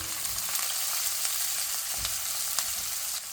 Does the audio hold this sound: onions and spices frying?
yes